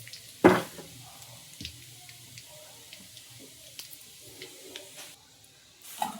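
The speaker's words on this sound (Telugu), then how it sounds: "ఆవాలు, జీలకర్ర కొంచెం ఎక్కువ వేస్తున్నా" Mustard seeds and cumin crackle and sizzle in hot oil during tempering for a cucumber chutney, with a soft, steady hiss broken by a few sharp pops, quiet and close.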